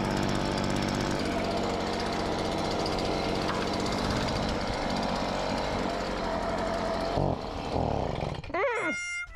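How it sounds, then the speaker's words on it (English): A leaf blower roars loud and steady while blowing debris off a 1972 Boler camper trailer during restoration, cutting out abruptly near the end. "I'm just gonna leaf blow this and tape up the windows."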